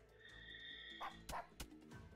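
A few short dog barks and yips ring out in quick succession from the strategy video game Wargroove, brief and fairly clear over a faint game tone.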